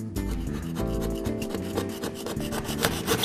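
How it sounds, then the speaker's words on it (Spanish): Fine-tipped handsaw cutting into plasterboard during a drywall patch repair, a rapid run of close, rough rasping strokes repeating steadily, with no talking. "es la punta del serrucho, al ser tan fina, la que nos permite penetrar sobre el cartón yeso o yeso laminado"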